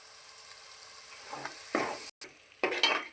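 Chicken curry masala with cumin powder frying in a pan, a soft steady sizzle broken by a few short bursts of stirring and scraping near the end, no voices.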